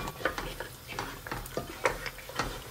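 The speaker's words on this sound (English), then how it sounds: "then my smoked fish, get them inside, and then you stir" Goat meat and smoked fish are stirred together in a cooking pot for jollof rice, the spoon scraping and clinking in repeated uneven strokes, close up and fairly quiet, with no talking.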